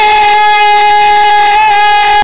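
A Czech Railways train sounds a loud, sustained horn up close, a steady tonal blast that holds for about two seconds and then cuts off abruptly.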